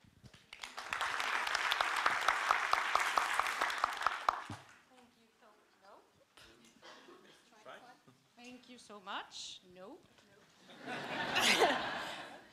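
Audience applause at the opening session of an AIDS conference in Sweden, a few seconds of clapping that fades into quiet, followed by light laughter, murmuring and a brief burst of chatter and clapping near the end.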